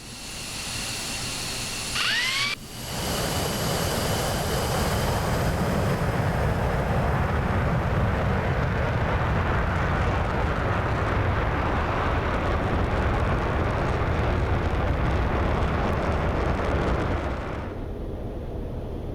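An F-15E Strike Eagle takes off at night in the DCS flight simulator, its jet engines a loud, continuous roar that swells after a brief dip and a rising whine, then holds steady for many seconds.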